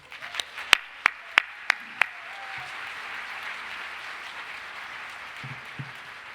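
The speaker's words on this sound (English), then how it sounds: "One more round of applause." A handful of sharp, separate claps ring out close by at first, then give way to softer, spread-out applause from the audience after a keynote talk on emotional intelligence at an education symposium.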